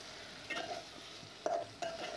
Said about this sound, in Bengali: এরপর আস্তে আস্তে এটা নাড়তে হবে